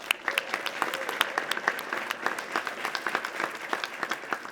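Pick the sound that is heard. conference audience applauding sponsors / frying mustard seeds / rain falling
conference audience applauding sponsors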